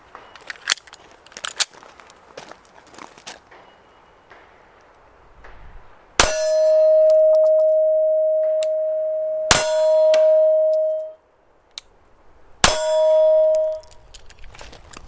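Three sharp shots from a suppressed Sig P365 pistol firing 115 grain Federal rounds at an outdoor range, each crack followed by a long ringing metallic ding from a steel target, spaced a few seconds apart after some faint handling noise.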